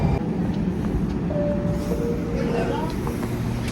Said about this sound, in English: Trains are arriving just now.